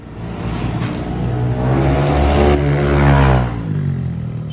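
A Yamaha NMAX V2 scooter with a CVT set and JVT exhaust pipe revs up close, its engine rising to a loud, rumbling peak and then easing back down, alone without talk.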